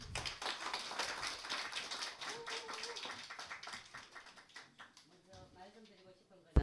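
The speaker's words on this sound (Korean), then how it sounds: "박수 한번 치주세요." Audience applause in a church service, a dense burst of clapping from many hands that fades over several seconds, with voices and some music underneath.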